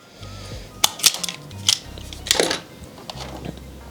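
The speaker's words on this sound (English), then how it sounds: "So there's 3 brown cables, so I'll cut this one" Cutters snipping a brown wire in an E39 car, a few sharp close clicks and snaps with brief rustling handling noise between them.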